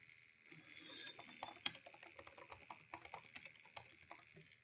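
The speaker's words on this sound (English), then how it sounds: "typed it correctly this time" Rapid, uneven keystrokes on a computer keyboard, close and fairly quiet, clatter on continuously for several seconds with no voices.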